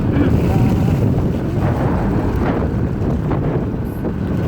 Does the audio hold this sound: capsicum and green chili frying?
no